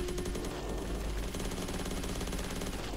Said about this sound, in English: Come on, start shooting.